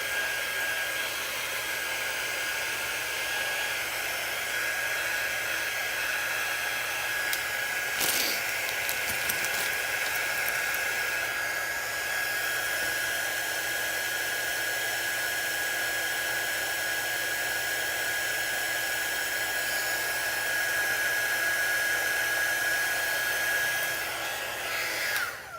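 A hair dryer blowing steadily and loudly for a long stretch to dry resin on a craft project, a constant airy whoosh with a faint whine, close by, with no talking.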